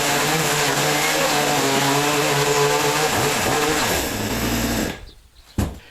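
Wooden beams are sawn into short firewood pieces with a loud, continuous buzzing drone close by. The drone wavers in pitch, cuts out near the end and is followed by a single sharp knock.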